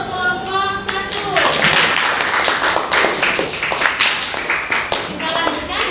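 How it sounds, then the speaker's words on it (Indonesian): Classroom students clapping for group 1 after its presentation, a loud burst of many hands that runs the length of the clip, with children's voices mixed in. "Tepuk tangan untuk kelompok 1"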